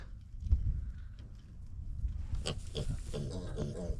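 Pigs grunting and snuffling nearby, low irregular grunts mixed with rustling and shuffling movement.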